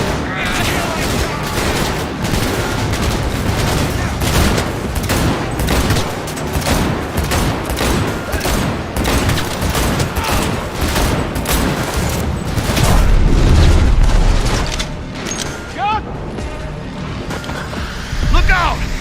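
A firefight in Cyberpunk 2077 with dense rapid gunfire and grenade blasts: a continuous, loud rattle of shots with a heavy booming burst midway. Voices shout over the combat.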